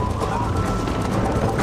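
Horse hooves pound in quick clip-clop rhythm during a race in the video game Red Dead Redemption, steady and moderately loud, with a faint whinny and some voices underneath.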